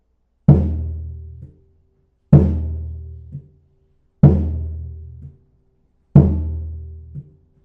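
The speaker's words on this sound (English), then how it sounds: "Now the second surdo we play on beat 1 and we mute on beat 2." A second surdo in a samba reggae pattern, struck deep and booming on one beat then damped on the next, four evenly spaced hits that ring briefly before being cut off, close and alone.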